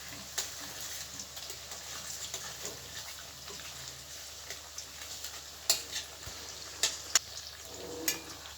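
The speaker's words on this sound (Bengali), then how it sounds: "এই যে মা এই যে তেলের মধ্যে কচুগুলোকে ছেড়ে দিল।" White taro pieces fry in oil over a low gas flame, giving a steady close sizzle broken by occasional sharper pops and a few utensil clinks, with no talking.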